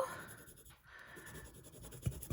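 A yellow pencil draws across paper in a soft, continuous scratchy rustle, close and quiet, ending with a couple of light taps.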